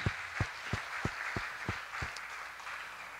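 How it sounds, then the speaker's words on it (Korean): A church congregation claps in a slow, steady beat, about seven distinct claps roughly a third of a second apart, then a softer wash of scattered applause fading out. "하나님께 우리 박수로 영광을 돌립니다."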